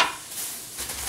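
Garlic, ginger and onion sizzle in a pan with a short, steady, moderately quiet hiss and faint crackle.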